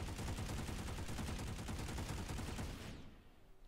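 Rapid automatic fire from an EM6 machine gun in the video game Planetside 2, a loud continuous burst of shots for about three seconds that then stops, leaving a faint tail.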